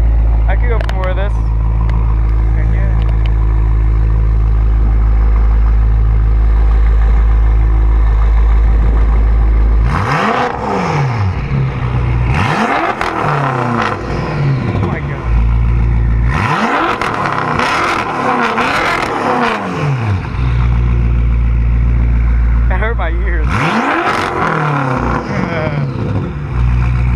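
Turbocharged car engines rev hard in repeated bursts at a car meet, rising and falling over a constant engine drone, with people talking throughout.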